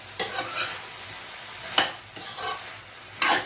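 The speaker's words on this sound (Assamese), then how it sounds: "এইখিনি এতিয়া মই ভালকৈ এবাৰ লৰাই দিম" Cauliflower, potato and peas dry sabji being stirred in a pan with ground coriander and salt, three or four distinct scraping strokes over a soft background sizzle, close by with no talking.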